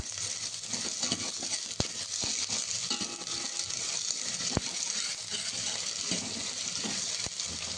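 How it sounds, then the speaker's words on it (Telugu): Onions frying in oil in a pan for a coconut-based fish curry, a steady close sizzle throughout with a few sharp clicks of a utensil, no talking. "ఈ బ్రౌన్ కలర్ వచ్చేదాకా నూనెలో వేగాలి."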